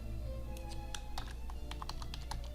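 Rapid typing clatters on a computer keyboard with a flurry of quick, fairly quiet key taps in an irregular rhythm over a low steady background hum, with no voices.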